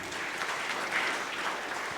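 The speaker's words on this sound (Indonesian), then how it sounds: "Yang setuju berikan tepuk tangan meriah buat Tuhan kita." A church congregation at a worship service claps together, a soft, dense, even patter of many hands that fills the brief moment at a fairly quiet level without speech.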